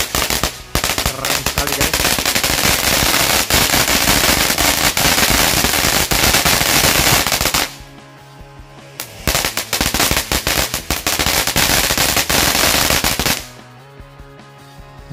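Cassandra Magical firecrackers set off during Eid al-Adha celebrations go off in long, dense, loud crackling bursts with two brief pauses between volleys, and a voice speaks briefly.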